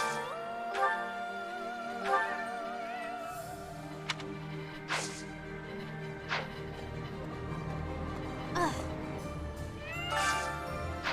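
Cartoonish cat meows from Fire Emblem: Three Houses, several short separate calls spread over a steady bed of game background music, moderately loud, with no one talking.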